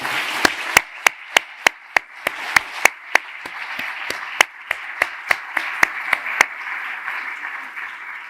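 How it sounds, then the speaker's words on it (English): Applause for EDPS staff at a closing event: sharp, evenly spaced claps ring out about three a second over a low room hiss, sounding like a few hands rather than a full crowd, and stop after about six seconds. "So I would like to ask you for a big applause for EDPS staff that helped today."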